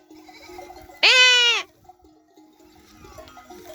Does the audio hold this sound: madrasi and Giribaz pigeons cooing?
no